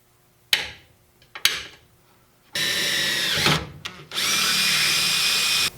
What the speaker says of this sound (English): I'm going to take a spring-loaded punch and mark the holes where I want to drill